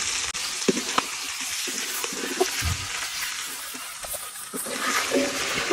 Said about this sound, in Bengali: আমরা চিকেনটা ভালোভাবে ভেজে নিব